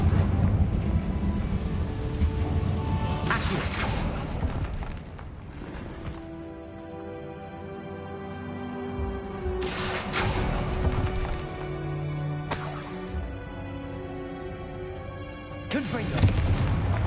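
A Confringo blasting spell goes off in Hogwarts Legacy gameplay, heard as several booming blasts with broadband bursts over a rumbling game soundscape and layered musical tones.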